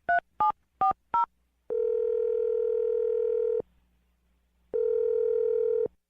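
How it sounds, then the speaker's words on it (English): Four quick touch-tone beeps, then a long steady telephone tone, a pause of silence, and the same tone again, loud and close. "I'm going to dial her phone number right now"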